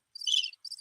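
A short burst of cricket chirping played as a sound effect after a joke falls flat, two quick shrill trills separated by a brief gap, clean and isolated with no talk.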